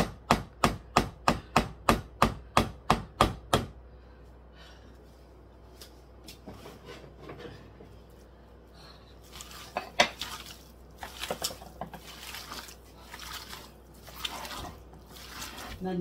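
Meatball mixture for boulettes is stirred in a bowl, first with a fast run of about ten sharp, evenly spaced clinks of utensil against the bowl, then softer scraping and clattering while people talk nearby.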